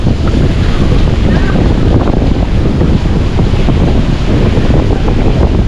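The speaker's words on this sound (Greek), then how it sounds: "νερά τρεχούμενα πέφτουν ακριβώς από πάνω μου" Steady, dense rushing water roars close by, a continuous broadband wash with no pauses, cold water pouring down from just overhead in Kourtaliotiko Gorge, Crete.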